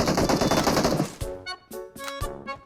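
Rapid bursts of gunfire in PUBG Mobile, a dense stream of shots followed by several separate sharp bangs, loud and close with no talk.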